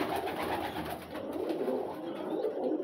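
Many pigeons coo steadily in a crowded pigeon loft, a soft continuous murmur of overlapping calls with no talking.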